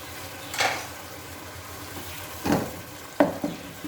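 Ginger garlic paste is stirred in a pan for aloo chicken curry, with a soft background sizzle and a few distinct spoon scrapes and clinks at irregular intervals.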